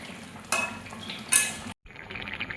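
A spoon stirs Bengali puti fish curry in a pan, giving a few brief scraping and clinking strokes against the metal over a low background hiss.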